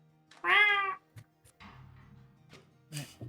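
A house cat gives one loud, close meow with a rising then falling pitch, followed by a few soft clicks and faint low murmuring sounds.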